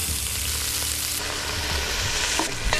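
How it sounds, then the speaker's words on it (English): Lean beef chunks fry in hot olive oil inside a camp oven over a fire, giving a steady, close, loud sizzle throughout with faint stirring scrapes and no talk. "When the oil is hot, add 750 grams of lean beef chunks."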